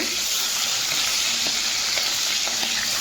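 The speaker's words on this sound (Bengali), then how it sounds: "তেলটাকে খুব গরম করে ভালো করে গরম করে তবে এই মাছটা দিলে আর কোনো চাপ নেই, যেভাবে খুশি কিন্তু ভেজে নিতে পারবে।" Fish frying in very hot oil in a wok, a steady loud sizzle with crackling pops throughout, no talking.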